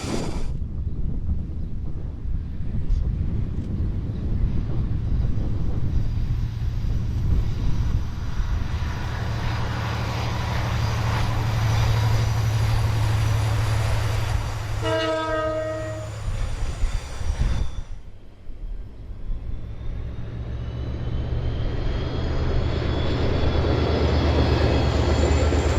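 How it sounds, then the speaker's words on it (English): Steam locomotive JB 1236 labours up Westmere Bank near Blueskin Road on a local excursion, with a steady heavy rumble of exhaust and running gear and a loud whistle sounding partway through, no voices. "Mainline Steam's JB 1236 nearing the top of the Westmere Bank at Blueskin Road on a local excursion from Wanganui"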